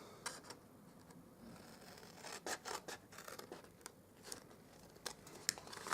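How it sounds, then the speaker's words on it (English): Scissors cut card stock for a reindeer gift box in short, faint snips and scratchy rustles, close and quiet with no talking. "Alright, so what we're going to do now is we're going to cut this off."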